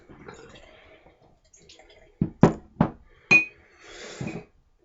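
A shaving brush soaks in water, heard as a handful of close, sharp clinks and splashes against a bowl, separated by brief gaps, then a softer trickle.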